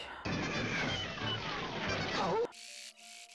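A Singer 301 sewing machine straining on polyester thread gives a loud, continuous grinding mechanical clatter for about two seconds, then cuts off abruptly to a quieter, steady tonal hum.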